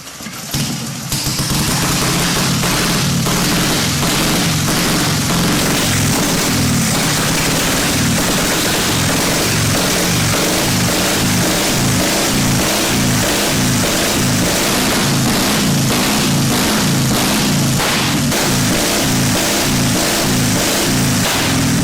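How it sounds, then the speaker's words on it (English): A warm vintage motorcycle engine is kicked over and fires after about a second, then runs loud and close with a lumpy, pulsing beat and repeated throttle blips and revs throughout. "Turn the gas on, advance the spark, take the choke off because the bike's already warm, decompress the engine"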